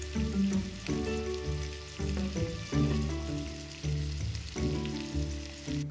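Butter beans fry in a pan with fresh rosemary until their skins crisp brown, making a soft, steady sizzle beneath tonal background music.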